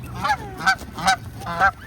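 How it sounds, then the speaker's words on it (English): Outdoor geese with goslings give four loud, evenly spaced honks, close by, with soft ambient noise between calls. "And here we got some goslings."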